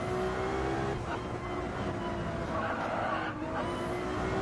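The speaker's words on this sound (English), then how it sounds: "had a little bit of tire slip there in the back end and loses that time" Race car in the Gran Turismo video game loses grip at the rear, a loud continuous engine roar with a brief tire slip sound mixed in, under commentator talk.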